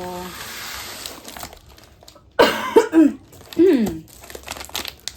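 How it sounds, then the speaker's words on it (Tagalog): A few harsh coughs burst out in a cluster near the middle, loud and close, with crinkling packaging noise and quiet talk around them. "Inuubo pa rin ako"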